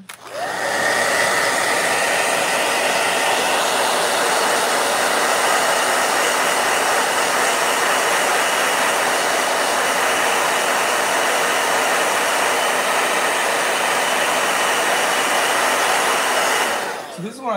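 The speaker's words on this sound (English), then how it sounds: "Blow dryer." A hair dryer runs steadily and loudly from start to finish, giving a continuous broadband whoosh with no talking over it, switched on at the start and off near the end.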